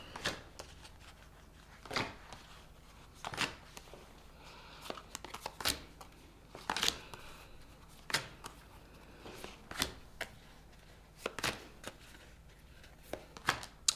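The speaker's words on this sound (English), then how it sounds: "I'm going to pull all the cards" Tarot cards being pulled from a deck and laid down, a run of crisp, close card snaps and slides at irregular intervals. Soft shuffling rustle fills the gaps, with no talking.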